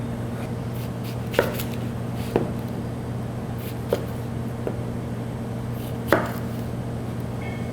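A knife chops onions on a cutting board, with a handful of sharp, separate cuts spaced irregularly over a steady low background hum and no talking.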